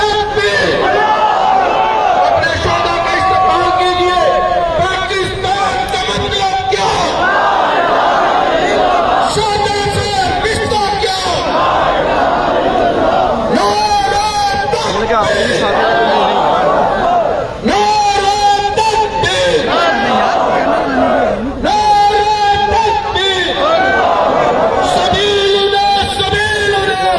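A large crowd at a funeral for martyrs in Pakistan shouts slogans in loud, rhythmic call-and-response waves, voices swelling and falling in repeated bursts across the whole stretch.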